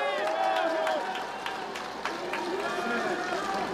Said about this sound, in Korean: 환호와 박수 한번 부탁드리겠습니다.